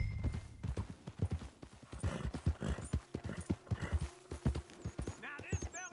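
Hooves clip-clop in a quick, steady rhythm as a horse is ridden in the game Red Dead Redemption 2, close and prominent, with a neigh and a character's voice partly over the hoofbeats.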